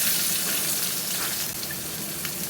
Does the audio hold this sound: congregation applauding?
no